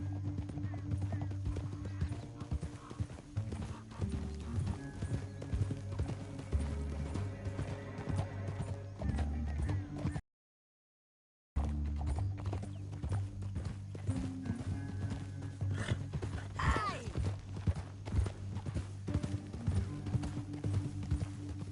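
Steady rhythmic hoofbeats of galloping horses in Red Dead Redemption 2 run throughout, with a brief whinny near the end, over background game music and rumbling ambience.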